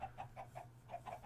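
Modded Minecraft chickens clucking in a farm, a steady run of soft, evenly spaced clucks at a low volume with no talk over them.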